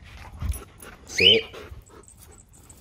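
An older husky fitted with a tactical harness pants and lets out a short high whimper, close by, while a person speaks a brief command and other quiet talk goes on around it.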